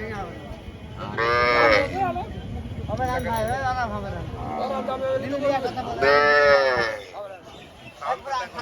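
Cattle low loudly and repeatedly, long drawn-out moos close by, amid the murmur of a crowded outdoor market with people talking.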